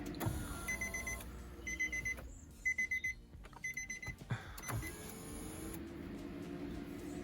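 Short electronic beeps chime in quick repeated bursts over a low engine hum and some clicks, fairly close, inside an Infiniti G37 S car.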